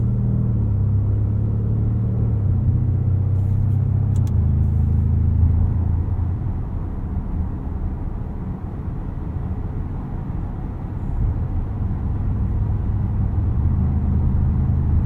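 A 2024 Porsche Cayenne Turbo E-Hybrid Coupe cruising in hybrid mode gives a steady, close low rumble of road and drivetrain noise heard from inside the cabin, easing slightly midway, with no voices.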